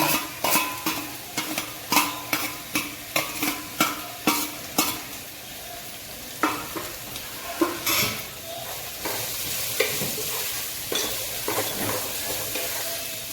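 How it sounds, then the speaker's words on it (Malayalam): Chopped onions, two large ones, fry in a pan and are stirred with quick rhythmic spoon scrapes over a continuous sizzle, the strokes slowing and spacing out later as the hiss carries on alone. "പിന്നെ സവാള അരിഞ്ഞ് വെച്ചിട്ടുണ്ട്, അത് ഇട്ട് കൊടുക്കുകയാണ്."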